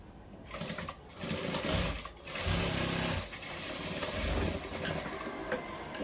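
A sewing machine runs in several short bursts while stitching pleats on a cross-cut blouse, a close mechanical whir with rapid needle ticking that starts, pauses and resumes, without any voices.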